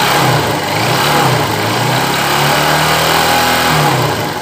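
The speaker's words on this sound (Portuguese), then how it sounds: "Vamos lá, vou acelerar." A 2007 Honda CG 150 ES motorcycle engine runs close by and steady, its low rumble rising and falling slightly as it is revved through the whole stretch.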